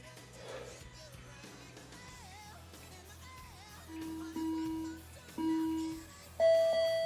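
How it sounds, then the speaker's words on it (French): Three electronic beeps from a timer, the first two lower and the last one higher and longer, over faint background noise. "il y a un bip qui est plus aigu pour commencer et arrêter"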